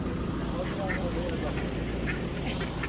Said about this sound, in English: But first, some ducks. Mallards.